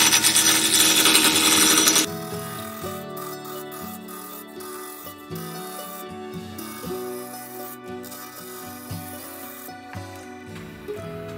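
Wood lathe turning a myrtle vase blank with a broad turning tool: a loud burst of cutting hiss at first, then a steady motor hum with intermittent scraping of the tool against the spinning wood.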